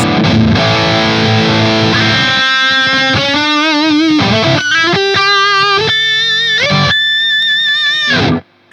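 Electric guitar on the bridge pickup through a small Hughes & Kettner Spirit of Metal amp with all controls at noon, heavily saturated chugging chords then bent, vibrato-laden lead notes, loud and close before cutting off.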